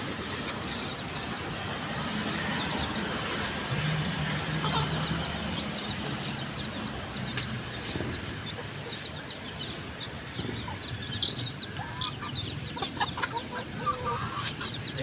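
Rhode Island Red chickens on a small farm give soft, scattered clucks over steady outdoor background noise, with sharper calls growing more frequent near the end.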